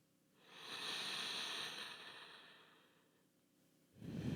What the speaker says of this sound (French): installez 3 grandes respirations